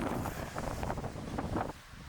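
A strong gusting wind buffets the microphone outdoors, a loud low rumble with swelling gusts that briefly drops off near the end, with no speech.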